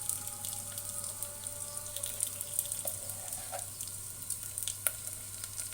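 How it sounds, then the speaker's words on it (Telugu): Moong dal frying in oil with onions in a pan: a faint, steady sizzle with occasional light stirring scrapes, no voices. "పప్పు కొంచెం దోరగా వేగాలి కొంచెం కలర్ మారిన వరకు"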